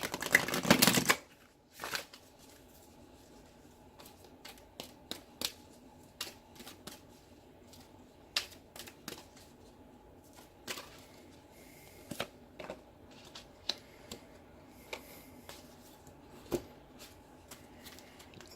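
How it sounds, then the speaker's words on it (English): Tarot cards are shuffled and drawn by hand, starting with a loud burst of riffling, then a long run of soft, irregular flicks, snaps and slides of cards against each other, close and quiet with no talk. "I really feel like I'm taking forever to shuffle these cards and pull them"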